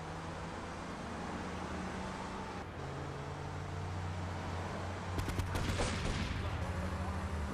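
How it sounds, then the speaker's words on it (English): Gunfire in Grand Theft Auto III crackles in a quick burst of shots over a droning car engine and traffic noise, fairly faint in the mix. "he's shooting at me"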